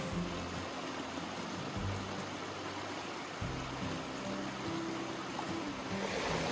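Cascading waterfalls along a hiking trail on the Blue Ridge Parkway give a steady, broadband rush of falling water, constant and moderately loud throughout, with a low churning rumble underneath and no talking.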